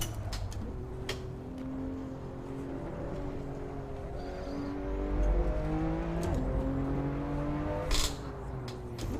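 An exotic car accelerating in the racing game Assetto Corsa, its engine note climbing through several gears with stepped rising pitch sweeps and brief shift drops, moderately loud and continuous with no voices.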